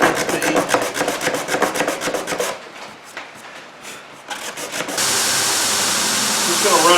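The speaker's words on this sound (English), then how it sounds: "Just going to run these tags on this sander just a little bit" A sander grinds the metal tags of a cannon under restoration. Rhythmic rasping strokes come first, then after a quieter stretch a loud, steady grinding whir takes over close by.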